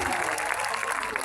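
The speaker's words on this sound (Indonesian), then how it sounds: "Tepuk tangan untuk Mas Agus." Applause from a crowd gathered for an open-air Islamic sermon in a field in Madiun, steady dense clapping for a congregant throughout, fairly close and unbroken.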